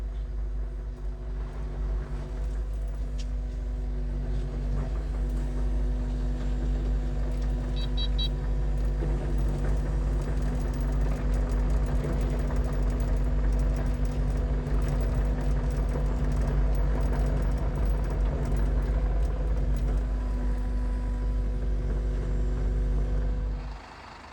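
A new Kobelco machine's diesel engine runs steadily while the machine is loaded onto a lorry, a loud, close, continuous low drone with a constant hum that holds for over twenty seconds before cutting off abruptly.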